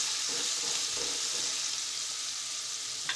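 Ginger, green chili and fresh green garlic sauté in hot oil, a quieter steady sizzle with faint stirring taps near the start and a small clink at the end.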